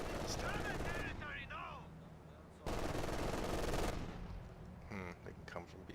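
Machine gun fire from Company of Heroes 2, a World War II strategy game, comes in loud sustained bursts with a harsh crackle, briefly pausing, then another long burst, with game battle noise and speech-like sounds throughout.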